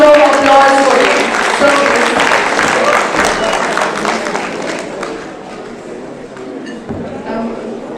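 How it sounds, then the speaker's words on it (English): Loud audience applause fills a conference hall during a book unveiling at a Srinagar conclave, dense clapping that gradually thins and fades over several seconds. "Everybody give a big round of applause for them."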